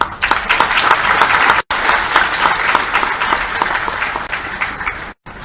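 Sustained audience applause at a formal oath ceremony for parliamentary secretaries in Raipur, dense and loud clapping filling the room for several seconds with two abrupt brief cuts, no voices above it.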